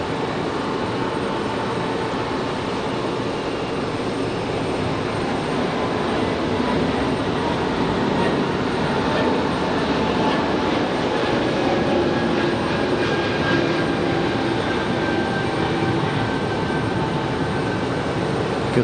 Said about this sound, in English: Good looking departure for the A220.